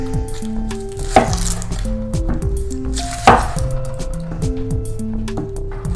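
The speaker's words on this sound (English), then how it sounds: "Start by slicing up our onion." A knife slices through an onion on a cutting board with two sharp chopping knocks, while a steady musical backing with sustained tones plays throughout.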